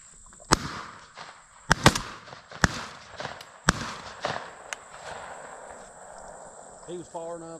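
Shotgun shots fired during a dove hunt in an open roadside field, several sharp loud blasts spaced irregularly over a few seconds, with faint voices and background noise between them.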